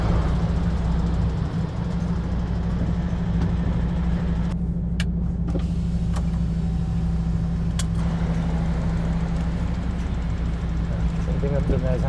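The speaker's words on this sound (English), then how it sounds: "Back it into its parking space, Tom" A truck engine idles with a steady low drone throughout while the vehicle reverses into a parking space, with a few brief clicks and knocks over the constant rumble.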